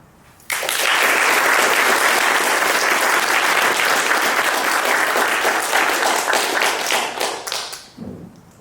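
Audience applause welcoming a lecturer to a talk on Frank Lloyd Wright's organic architecture: a dense, steady roomful of clapping that starts abruptly, holds strong for about seven seconds, then thins out and fades.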